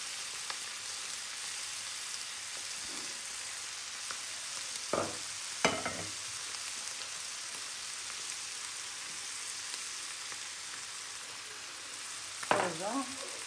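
Kofta meatballs fry in a pan with a steady, soft crackling sizzle throughout, punctuated by a few brief clinks and scrapes of a utensil.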